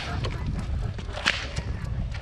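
A leather whip with a simple handle cracks near a Percheron stallion outdoors, a sharp bright snap standing out mid-clip over steady low rumbling background noise.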